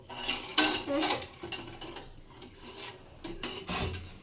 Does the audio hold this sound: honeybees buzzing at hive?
no